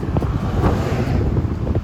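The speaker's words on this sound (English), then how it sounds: "It's quite windy." Strong wind buffets the microphone near Alexander Bay, a loud, continuous rushing roar with gusty surges and no speech.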